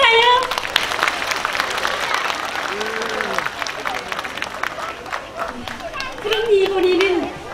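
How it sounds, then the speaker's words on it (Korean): An audience at a folk art performance by a Pyongyang folk arts troupe gives loud, steady applause that fills the hall, with crowd murmur and some voices beneath the clapping. "다시 한번 큰 박수 주시라요"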